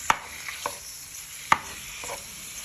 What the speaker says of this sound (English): give it a minute or 2 before you start frying your pork